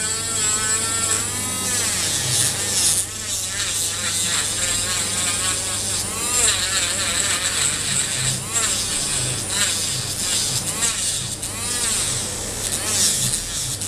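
A small electric nail sander removing the top layer of gel nails whines continuously with wavering pitch, close up, while a voice talks intermittently beneath the buzzing.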